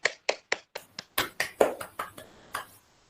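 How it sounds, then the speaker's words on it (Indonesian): A teacher leads a classroom in a quick round of hand clapping during a maths lesson, about a dozen sharp claps in a steady, slightly uneven rhythm, close and fairly loud, with no talking over them. "Tepuk tangan dulu."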